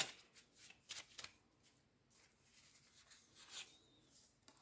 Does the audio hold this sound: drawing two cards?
yes